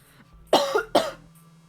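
Two quick, sharp coughs follow each other closely, loud and near, over a faint low hum.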